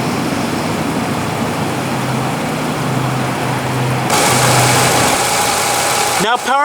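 A 2016 Nissan Rogue 2.5-liter inline four-cylinder engine idles with a steady low hum, close by, then a brief higher-pitched squeal near the end.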